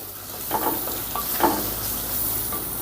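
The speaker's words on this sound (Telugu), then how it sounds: "ఇప్పుడు ఈ మొత్తాన్ని ఒకసారి కలుపుకుందాం" Salt, turmeric and chili powder being stirred in a pan, with a steady background sizzle and a few soft scraping strokes of a spoon, close and without talking.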